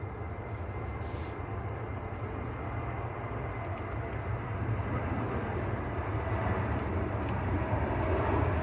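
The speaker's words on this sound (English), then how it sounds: "Ryanair on the roll." A Ryanair jet rolls down the runway for takeoff at Manchester Airport, a steady, broad engine roar that holds level and swells slightly louder toward the end, heard from a distance with no talk.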